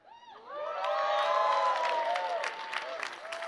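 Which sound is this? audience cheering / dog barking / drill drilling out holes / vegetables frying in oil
audience cheering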